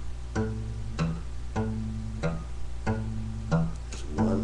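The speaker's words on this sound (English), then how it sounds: "so we get our bass note on the fifth string to sound like this." An acoustic guitar bass note on the fifth string is plucked repeatedly in a steady rhythm, six or seven muted, thumb-damped thumps, close and clear with no talking.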